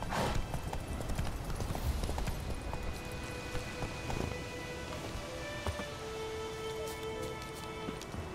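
Roach the horse's hooves clip-clopping in The Witcher 3, a steady trot of soft hoofbeats throughout with rain-like ambient hiss and occasional tonal game sounds.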